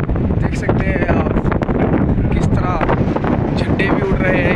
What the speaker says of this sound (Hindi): काफी तेज हवा डैम पे